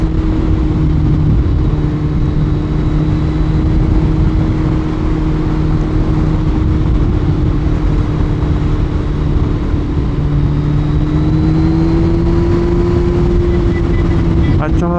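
A Kawasaki Z1000 motorcycle engine idles and revs steadily up close, a continuous mid-pitched drone that rises and falls gently over about fifteen seconds, with a voice talking over it.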